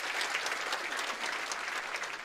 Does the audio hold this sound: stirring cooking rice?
no